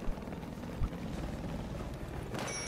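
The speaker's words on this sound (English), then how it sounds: "Chopper's right in front." A helicopter in a Battlefield 4 match makes a steady low rotor drone that stays fairly faint and continuous under other battle noise, with a brief thump near the start.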